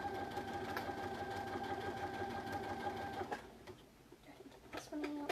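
A sewing machine stitches a fabric crayon roll with a steady whirring hum for about three seconds, then slows to a halt, followed by a brief renewed burst of stitching at close range.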